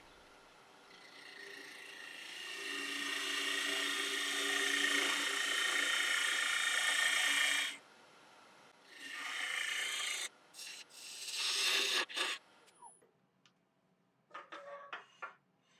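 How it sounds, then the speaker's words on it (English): A spindle gouge cuts laburnum wood spinning on a lathe for a goblet, giving a loud, steady rasping hiss for several seconds, then shorter bursts of cutting separated by pauses. "Now back to the spindle gouge."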